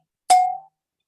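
A single small bell struck once to adjourn a Rotary Club meeting, a bright ding with a quick attack and a short ringing decay, alone in silence.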